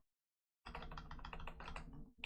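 Rapid clatter of keys on a computer keyboard, typed in a quick continuous burst after a brief silence, close and fairly quiet with no talking.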